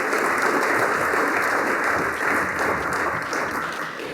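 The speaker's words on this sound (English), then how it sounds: "We've got a few minutes here, so round of applause." Audience at a conference session applauding panel speakers, a dense, steady round of clapping that holds for several seconds and tapers slightly at the end, with no talk over it.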